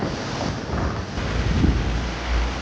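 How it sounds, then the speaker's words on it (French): Steady wind gusting past a microphone aboard a solo racing sailboat at sea during a Vendée Globe race, a dense continuous roar with low rumbling buffets and no voices. "Là, le vent, il est en train de baisser."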